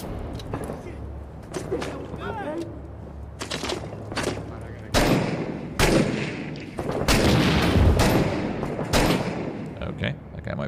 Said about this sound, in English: I can't tell where these guys are shooting from.